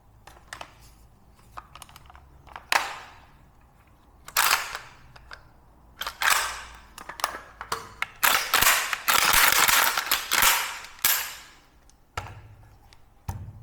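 An unloaded AKSU rifle with about 6000 rounds fired and tuned furniture is handled and cycled up close, giving sharp metallic clacks and rattling bursts at irregular intervals, with a longer clattering run near the middle.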